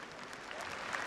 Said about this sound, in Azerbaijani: sizin alqışlarla onu studiyaya çağırırım